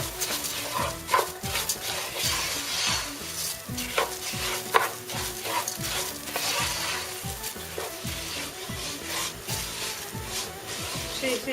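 Barley-shaped orzo pasta toasting in butter in a pan, giving a steady close sizzle with scraping stir strokes repeating throughout.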